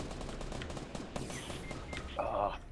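Gunfire from the video game Fortnite rattles in quick, dense bursts, fairly quiet and steady, with a brighter burst near the end and faint voice chat underneath.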